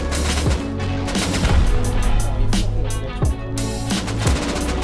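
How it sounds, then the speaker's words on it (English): Rapid bursts of gunfire from the Rust video game during a PvP raid defense, several loud close shots in quick succession followed by a few spaced single cracks, with no talking. "I'm gonna shoot one more in there"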